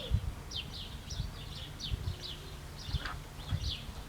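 Small birds chirp in short, high bursts during a quiet yoga relaxation in restorative bound-angle pose, the calls light and scattered over soft low background rumble.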